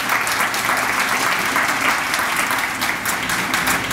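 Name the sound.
audience applause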